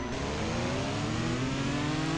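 A car engine in a CSR2 mobile drag race, revving hard with steady rising whine as gears climb, loud and continuous over a couple of seconds, no talking.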